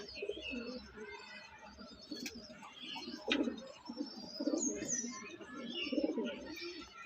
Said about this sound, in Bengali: এইটা নর পায়রা